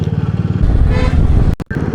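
A motorcycle engine-brakes down a steep downhill road near Pushkar, a loud close throbbing engine drone with a brief dropout and clatter near the end.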